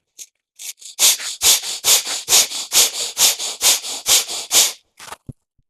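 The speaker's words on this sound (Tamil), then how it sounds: "நல்லா மூச்சை உள்ள எடுத்து மூச்சு வெளியே விடுறோம் ஸ்பீடாக." Rapid, forceful Kapalabhati yoga breathing: a steady run of about fifteen sharp nasal exhalations in quick regular rhythm, close and loud, with a few quieter breaths at the start and end and no talking.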